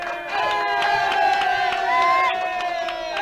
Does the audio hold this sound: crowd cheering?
yes